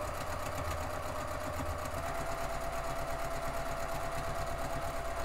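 A sewing machine with a 90/14 needle and 3.0 stitch length backstitches fabric for a design board panel, giving a continuous close, rapid mechanical hum and patter with no pauses.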